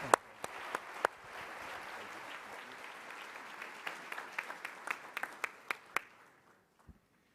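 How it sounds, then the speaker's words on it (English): An audience at a national leadership luncheon applauds the panelists, a moderate crowd clapping heard from some distance, thinning out with a few scattered louder claps before fading to silence. "let's give our panelists a big warm round of applause"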